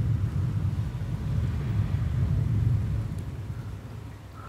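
Low, continuous rumble of thunder during a moderate summer thunderstorm, swelling and fading over several seconds, distant and muffled with some wind noise, no voices.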